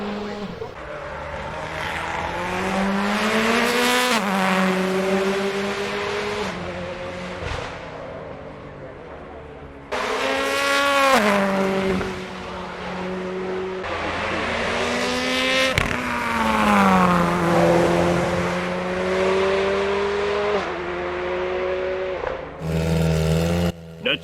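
A 670HP Subaru WRX runs full throttle up a hill climb course, its loud engine note rising and falling through gear changes, with brief drops between bursts and a voice talking over it.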